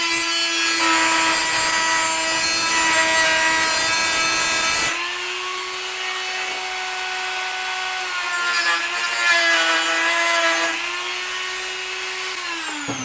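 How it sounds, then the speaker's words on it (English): An angle grinder wheel cuts excess plastic off an ammo box, a loud continuous high-pitched whine that drops in pitch midway and rises again, close and without talk. "I'm just using the grinder part of the wheel to cut it off."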